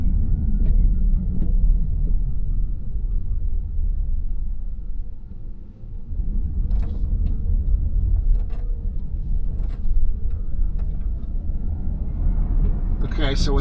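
A Hyundai Ioniq 5 on Michelin X-Ice or Bridgestone Blizzak winter tires pulls away from a standstill up a 10% incline, giving a steady low road and tire rumble with faint cabin noise throughout and a brief dip midway.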